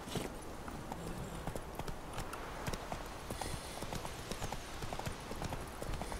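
Horse hooves in The Witcher 3: Wild Hunt, a rapid, even clip-clop of galloping over ground, close and continuous throughout with a faint background wash.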